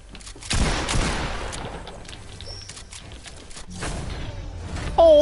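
Bursts of rapid gunfire in an online shooter video game, a dense crackle of shots that then trails into scattered smaller effects and a brief tonal game sound at the end.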